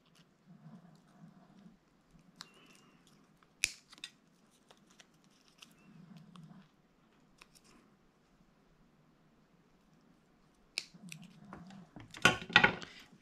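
A few quick snips of scissors trimming paper for an envelope pouch, with soft rustling and handling noises between the cuts, close by and fairly quiet.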